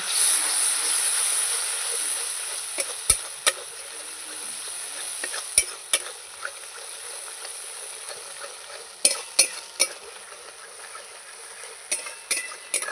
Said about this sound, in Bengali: এবার দেবো লবণ, এবার দেবো হলুদ, এবার ভালো করে নাড়িয়ে নেব।